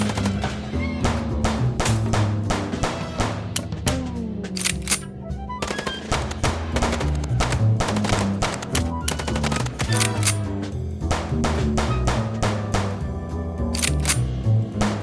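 Rapid automatic gunfire from a shootout in the video game Chicken Police, loud and continuous sharp bursts with brief pauses, layered over game music and effects.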